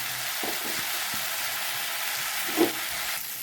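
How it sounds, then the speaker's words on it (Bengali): Chili paste frying in a pan gives a steady, fairly loud sizzle throughout, with a few soft scrapes of stirring and one sharper knock near the end. "আর বন্ধুরা এটা দেখো আমি ভালো করে ফ্রাই করে নিচ্ছি"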